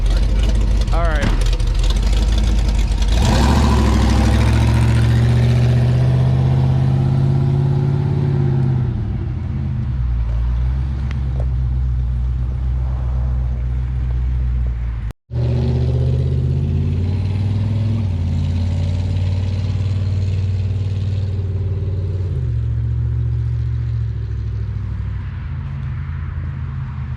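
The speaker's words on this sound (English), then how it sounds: "I'll do a burnout right there." A 1970 barn-find gasser car engine, family owned since new, idles with a loud, rough low rumble, then revs and pulls away, its sound shifting and easing as it drives off, with people talking over it.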